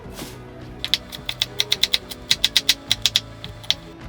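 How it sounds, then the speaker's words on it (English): A knife dices jalapenos on a cutting board with quick, light, evenly spaced chopping taps, close and crisp, in a steady run of roughly twenty strokes with no talk. "I'm gonna go ahead and dice mine up a little bit more fine."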